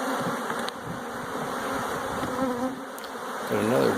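Honey bees buzz steadily around an open beehive during a spring hive split in East Texas, a dense continuous drone with individual bees whining closer now and then, growing louder toward the end.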